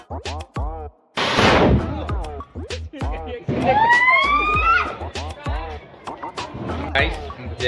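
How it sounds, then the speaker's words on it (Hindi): Diwali firecrackers go off outdoors. One loud, sharp crack stands out, followed by a rising whistling tone, while people talk close by throughout. "देखा आपने कैसे पटाखे जलाए हमने"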